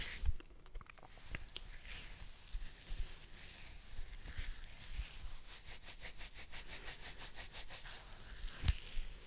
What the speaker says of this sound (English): we'll get some nice beard sounds here